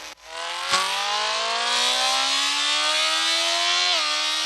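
A steady, high-revving motorcycle engine in the video game Traffic Rider drones and climbs gradually in pitch, loud and continuous, with a brief dip near the end like a gear change.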